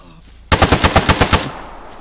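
Rapid automatic gunfire from the military shooter game Arma, a close, loud burst of about ten evenly spaced shots lasting a second, then a lingering tail.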